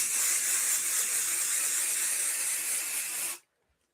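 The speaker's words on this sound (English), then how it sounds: "This is basting spray, basting adhesive." A can of basting adhesive spray-on glue releases one steady, close hiss for about three and a half seconds, then cuts off abruptly into silence.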